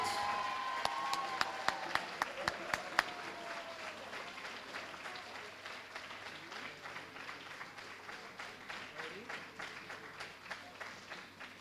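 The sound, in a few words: audience applause at band banquet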